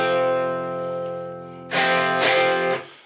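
An electric guitar played through a pedal board's wah pedal rings out a sustained chord, then sharper strummed bursts sweep in with a filtered, effected tone, with no talking.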